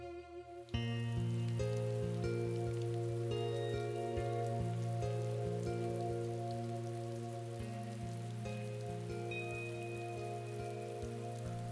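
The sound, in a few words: rain falling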